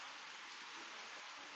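Rain falls in a steady, soft hiss outdoors near a pigeon loft, brief and even with no other sounds or talk.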